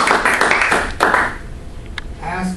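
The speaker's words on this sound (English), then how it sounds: "Give John a round of applause." Audience applause after a talk on communication bursts out loudly for about a second, then fades as a speaker's voice takes over and carries on.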